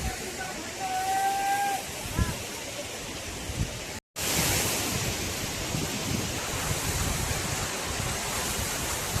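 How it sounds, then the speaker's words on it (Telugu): Vasudhara waterfall near Badrinath, a powerful, roaring rush of falling water, loud, close and unbroken apart from one brief cut, with a faint voice barely surfacing at the start. "చాలా పవర్ఫుల్ వాటర్ ఫాల్ అనమాట ఇది"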